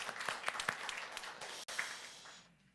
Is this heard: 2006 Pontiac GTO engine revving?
no